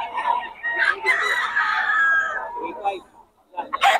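Roosters and chickens at a fowl market crow and cluck, a long loud crow near the start and middle, with more bursts at the end and people talking under the birds.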